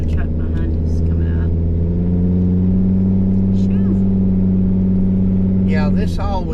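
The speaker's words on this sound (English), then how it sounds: "Got a truck behind us coming" A truck rumbles up from behind on a flooded, muddy road in Pike County, Kentucky, a steady loud engine drone with a low hum throughout and brief higher noises near the end.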